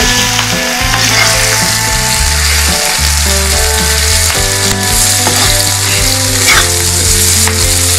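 Fish sizzles and fries in a hot pan, a dense, loud, steady crackle with occasional stirring clatter.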